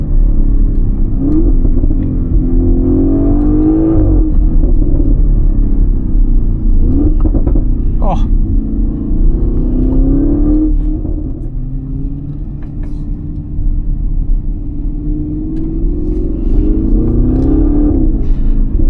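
A loud, throaty 2017 Audi RS6 (C7) engine with an Audi Sport titanium exhaust revs and accelerates, its exhaust roaring and rising in pitch through several surges, heard steadily from inside the cabin with windows up.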